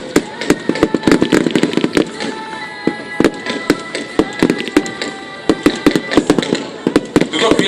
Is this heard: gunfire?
yes